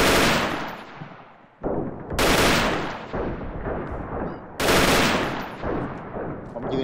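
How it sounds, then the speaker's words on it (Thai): Machine gun fire in the video game Freeman: Guerrilla Warfare comes in three long, loud bursts of rapid shots, each trailing off into a rumbling echo before the next. "ผมยืนยิงเลยนะเนี่ย"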